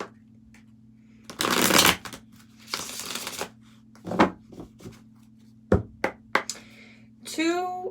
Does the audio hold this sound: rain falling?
no